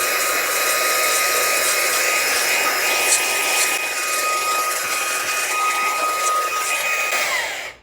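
A Fanttik B8 ACE brushless mini blower blows dust off a keyboard with a loud, steady, close-up high-pitched whine and rush of air that winds down at the end, with no voices.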